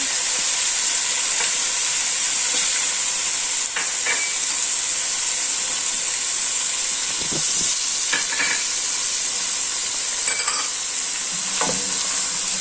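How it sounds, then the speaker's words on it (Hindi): Garlic and ginger cubes with spices frying lightly in a pan, a steady bright sizzle throughout with occasional stirring scrapes and clicks, close and continuous. "ये क्यूब्स जो है लहसुन अदरक ये डाल देते हैं, और इसको थोड़ा सा हल्का सा फ्राई करना है।"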